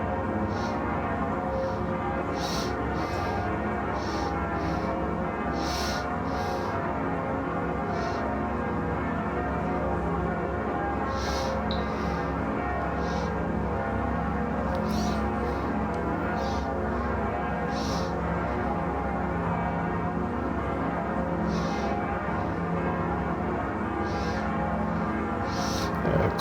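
Notre Dame de Paris church bells ring in a dense, continuous peal, with steady overlapping tones holding at an even loudness for the whole stretch and no voices.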